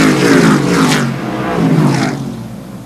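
Short track race cars roar down the straightaway off the corner, engines loud and close at first, then sweeping past and fading away into the distance.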